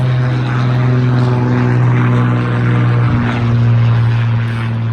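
A propeller airplane passes overhead near an airport, a loud, steady droning hum with strong engine tones that holds throughout and shifts slightly in pitch as it moves.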